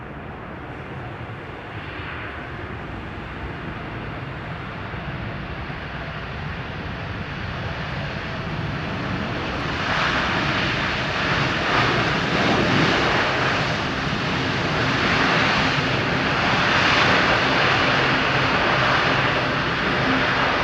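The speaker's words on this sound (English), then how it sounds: "It's that WestJet touchdown." A WestJet airliner lands on runway 27R at London Heathrow, its jet engine roar building from a steady distant rush to a louder, broader wash of noise as it touches down, with no talk.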